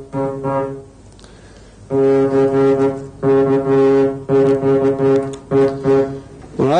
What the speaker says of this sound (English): It's a record of some very, very crude synthetic speech, and it starts with the buzzing sound of the vocal cords.